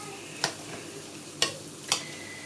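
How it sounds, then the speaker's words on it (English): A salad is tossed with a balsamic vinegar dressing, heard as three soft, brief clicks and swishes from the utensils, spaced unevenly against a quiet background. "And I'm dressing this salad and I'm mixing it in."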